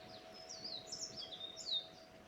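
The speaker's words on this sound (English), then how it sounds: "I'm attuned to the acoustics of the singing bird and the chimes" An outdoor bird sings a few quick, high, chirping phrases, faint and somewhat distant, over a quiet background with a steady faint hum.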